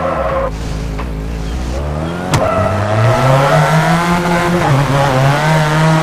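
A rally car in WRC 4 at Rallye Deutschland revs hard and then skids loudly through a handbrake hairpin, with continuous engine drone and tyre scrub in the foreground.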